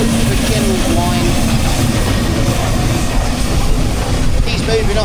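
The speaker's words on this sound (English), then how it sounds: "The Fowler is now set off, he's in top gear as well. You can hear those gears building up, the general whine." A Fowler steam engine sets off in top gear at a steam rally, its rumbling machinery and gear whine building steadily and loudly, with someone talking over it.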